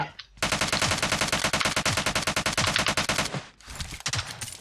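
Rapid automatic gunfire in PUBG Mobile rattles out in one long, loud, evenly spaced burst of about three seconds, followed by a shorter scattered volley.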